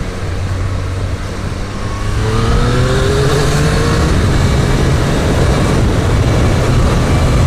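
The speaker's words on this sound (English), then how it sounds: "it's a modern sports bike" Modern sports bike engine accelerating hard, a loud, close droning roar whose pitch climbs steadily through the revs over rushing wind noise; no talking.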